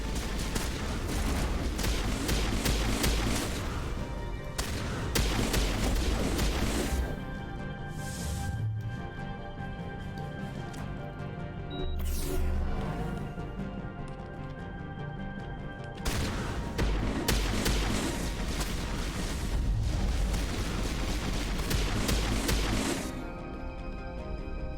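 Gunfire in the Mass Effect video game, long stretches of rapid crackling shots and impacts in bursts, loud and close, separated by brief quieter pauses.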